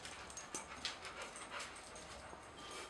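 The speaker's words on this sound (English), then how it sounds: "the heavy breather is the dog in the background" A dog panting heavily somewhere in the background, soft rhythmic breaths mixed with a few faint whimpers, quiet and distant in an otherwise hushed indoor room.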